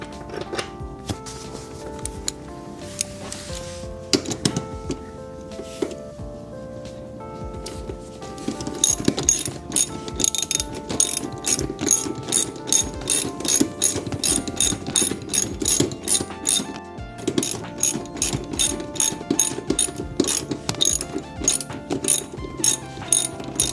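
A ratchet tightens the seat bolts of a Lexus LX, sparse clicks at first, then rapid, steady pawl clicking close to the microphone with one brief pause partway, and no voices.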